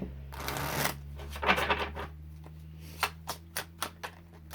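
Tarot cards being shuffled: a quick riffling burst, then a run of crisp taps and flicks spaced about half a second apart, close by.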